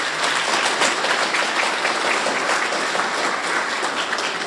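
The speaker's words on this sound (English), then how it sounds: "I want you to give them a round of applause" A room of people at a Union County Republican Party gathering applauds steadily for the party officers, a dense, even wash of clapping lasting throughout.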